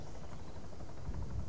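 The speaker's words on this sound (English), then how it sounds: "Because that helicopter's British." A helicopter in a military video game drones steadily with a low rotor rumble, continuous and fairly faint throughout, with no voices over it.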